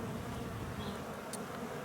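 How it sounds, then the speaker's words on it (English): Honeybees buzz around a hive on a cool, windy spring day, a faint steady hum beneath rushing wind noise, with one bee briefly passing closer. "There's a lot of bees here"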